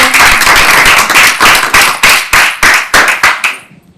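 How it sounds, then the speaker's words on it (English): An audience at a university student presentation event claps loudly and close, a dense burst of applause that settles into a few rhythmic claps before fading out. "let's give another round of applause for Miguel, Diana, Nicholas, and Sophia."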